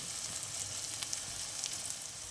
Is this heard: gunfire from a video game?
no